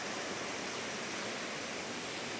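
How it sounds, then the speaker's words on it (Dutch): A waterfall in Chiang Mai pours as a dense, constant hiss of rushing water, loud and close, with no voices. "we zijn eindelijk bij een waterval"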